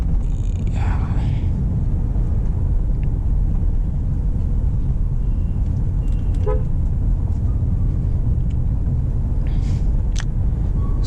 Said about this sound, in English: why do I honk when there's nobody?